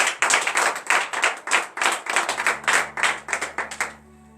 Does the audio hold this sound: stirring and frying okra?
no